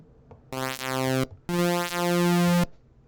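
Two bright, buzzy synth notes with a plucked, piano-like retro chip tone in a SID-like style, made in maxYMiser, each held briefly and separated by a short gap, heard alone.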